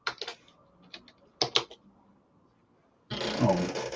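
A computer keyboard clicks in short separate bursts of keystrokes, close and fairly clear, with a pause before a louder rustling noise takes over at the end; no one talks.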